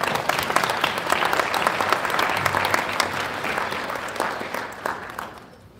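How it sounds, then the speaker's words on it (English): An audience at a National Congress of American Indians gathering applauds with dense, steady clapping that carries on evenly, then fades toward the end. "Have a round of applause,"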